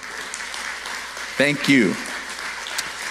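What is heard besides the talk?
graduating seniors applauding themselves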